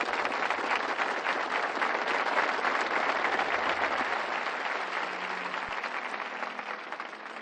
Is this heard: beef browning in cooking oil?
no